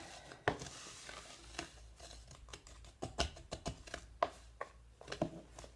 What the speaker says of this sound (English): So I'm just going to stir that up a little bit.